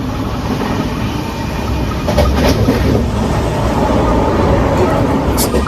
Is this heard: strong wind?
no